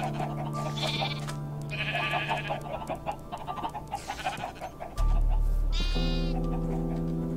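Several nasal Minecraft sheep bleats in a row over a steady background hum, joined by clucking chickens, all close and fairly loud.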